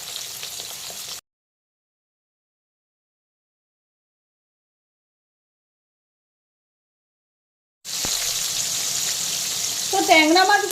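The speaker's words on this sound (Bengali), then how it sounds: "ট্যাংরা মাছের একটা দিক ভালো মতো ভাজা হয়ে গেলে আমি মাছগুলোকে উল্টো করে দেব।" Tengra fish frying in hot oil give a steady, close sizzle that cuts out into a long silence, then returns just as loud with some stirring.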